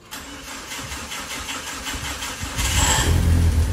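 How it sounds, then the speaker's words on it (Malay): A Volkswagen car engine cranks and starts, then settles into a steady idle that swells louder near the end, with no talk over it. "Masih bunyi Volkswagen tu."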